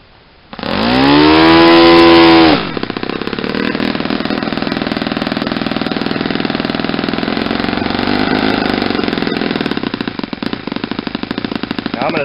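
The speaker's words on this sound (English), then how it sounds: "Now I'm going to set this engine really, really rich for the first tank here." Saito 50 four-stroke model aircraft engine, freshly rebuilt, starts with a brief loud revving burst, then settles into a steady, close buzzing run that holds for the rest of the clip without any talking.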